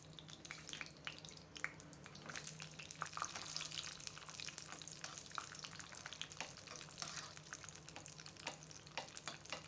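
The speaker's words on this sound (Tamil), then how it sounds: "நம்ம கரண்டியில் கொஞ்சமாக நெய் ஊற்றிட்டு முந்திரி திராட்சையெல்லாம் போட்டு வறுத்துக்கலாம்" Cashews and raisins roasting in a little ghee in a small ladle, with a faint, crackling sizzle and frequent light clicks and scrapes of stirring.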